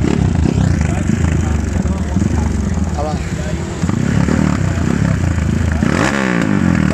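A 351cc motorcycle engine rumbles and revs up nearby amid clattering and scraping, with people talking over the noise.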